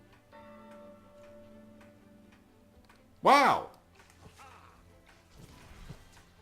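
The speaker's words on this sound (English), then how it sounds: "The bell rang too." A single loud, ringing bell strike in the Shroud of the Avatar fantasy game rises over a quiet ambient drone and fades over half a second. A voice exclaims briefly.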